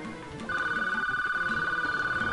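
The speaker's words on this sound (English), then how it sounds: "Yeah, my phone only rings twice." A phone rings in Paper Mario, a steady electronic ringtone pulsing in a rapid even pattern that starts abruptly about a fifth of the way in and continues to the end over soft game background music.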